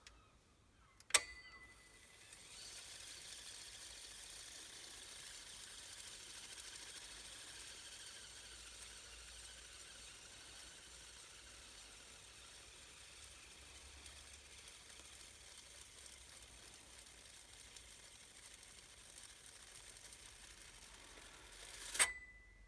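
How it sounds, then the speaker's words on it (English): Ampex VR2022 video tape recorder rewinding its tape: a steady, even mechanical whir holds for about twenty seconds between two sharp clunks at the start and end, fairly quiet, with no one talking. "So we'll just use the machine to rewind it."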